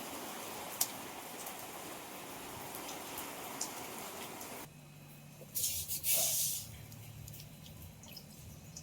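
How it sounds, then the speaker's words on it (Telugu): Faint, steady patter of rain with soft hiss, quieting partway through before a brief louder splash of spray. "వర్షం ఎలా వస్తుందో చూడండి"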